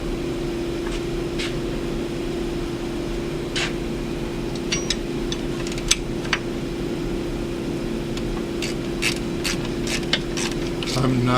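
A ratchet snugs bolts on an intercooler bracket of a Grand Cherokee EcoDiesel, giving scattered quick clicking bursts and small metallic ticks close by, over a steady low mechanical hum.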